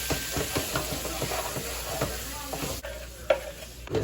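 A spoon scrapes and stirs cabbage and sausage seasoned with salt, Creole seasoning and cracked pepper as they fry in a pan, with knocks and scrapes over a steady sizzle and a sharper clatter near the end.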